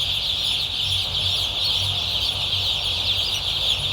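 A crate of about a hundred broiler chicks chirps in a dense, unbroken chorus of high peeps. The sound stays steady and close throughout, with a faint low rumble underneath and no talk.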